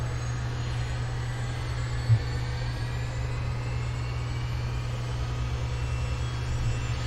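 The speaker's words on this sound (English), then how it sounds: "Number 2 is igniting. Starter goes off. Let's monitor the engine running up." Turbine engine of a Boeing CH-47D Chinook helicopter spooling up after ignition in a flight simulator, a steady loud drone with a constant low hum throughout and a single brief click near the start.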